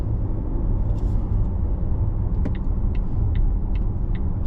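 A supercharged 2-liter 2025 Volvo XC90 seven-seater accelerating on a highway, heard from inside as a steady loud engine and road rumble with faint brief squeaks layered over it.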